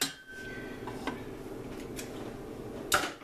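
A spoon is scraped clean of sticky puppy chow mix with light metallic clinks and scrapes. There is one sharper clank near the end, and the room is otherwise quiet.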